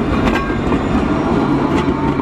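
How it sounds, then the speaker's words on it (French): A tram set on line A of the Angers tramway rumbles past close by, a loud continuous rolling noise with faint wheel clatter, no voices. "je commence la vidéo avec cette rame de la ligne A qui est actuellement sur l'ancien tracé"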